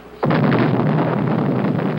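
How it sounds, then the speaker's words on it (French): Underground nuclear test explosion at Amchitka: a sudden deep boom breaks in after a quiet moment, then swells into a loud, continuous rumbling roar that carries on to the end. "Une explosion souterraine à Amchitka."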